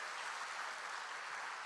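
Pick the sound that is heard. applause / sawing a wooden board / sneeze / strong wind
applause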